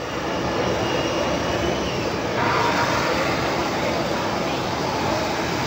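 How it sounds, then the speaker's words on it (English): Engines of the Shuttle Carrier Aircraft, the modified jumbo jet carrying Space Shuttle Endeavour, roar steadily after it rolls to a stop at Ellington Field in Houston, a loud continuous broadband rumble that swells slightly midway. "The shuttle carrier aircraft came to a wheel stop just moments ago."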